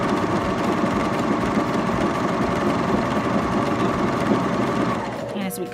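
A Baby Lock Vibrant serger stitching a rolled-edge pintuck, a fast, even mechanical whirr running steadily close up before winding down at the end, with a voice talking over it.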